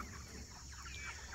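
Meat chickens in a chicken tractor cluck softly, with faint scattered calls over a steady outdoor background hum.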